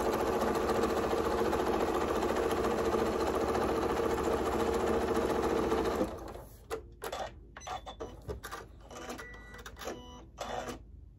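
A sewing machine stitching quilt pieces along a drawn diagonal line whirs steadily and loudly for about six seconds, then stops, leaving scattered handling clicks and fabric rustles.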